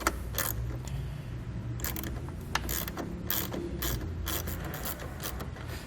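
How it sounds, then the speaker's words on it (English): A ratchet fitted with a 10mm socket loosens the nut on a car battery terminal, its pawl clicking in a fast, steady, close run of small metallic ticks with no pauses. "We want to grab a 10mm socket so we can loosen up that nut that's on the battery here."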